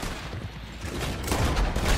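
Bursts of gunfire from the video game Red Dead Online crackle in rapid, overlapping volleys, growing louder and denser toward the end with no voices.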